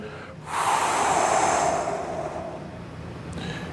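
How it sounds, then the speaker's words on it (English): A person exhales forcefully and steadily during a left-hand side bend stretch in an exercise session: a close, breathy rush that swells, holds for over a second, then tapers into quieter breath noise. "If you can hear and tune into my breathing"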